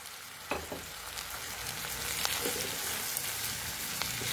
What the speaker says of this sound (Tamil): இந்த ஆலுவள்ளி கிழங்கு நல்லா பட்டையை எடுத்துட்டு சீவி வச்சிருக்கிறேன். இதையும் அதில் கொட்டுறேன்.